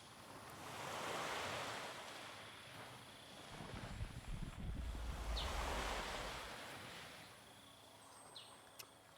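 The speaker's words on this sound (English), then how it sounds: "Finally, you find it. The waterfall." A jungle waterfall in the video game Renowned Explorers gives a soft, distant roar of rushing water that swells and fades twice, mixed with airy wind-like noise and a couple of faint high chirps; no voices.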